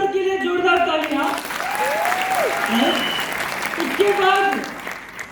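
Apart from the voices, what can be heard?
audience applause at an event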